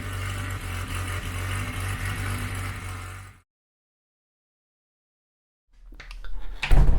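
A Renault 9 engine idles steadily on its mechanical fuel pump with a blowing exhaust, a close, loud, even rumble for about three seconds, then silence, then a burst of engine noise and clatter near the end.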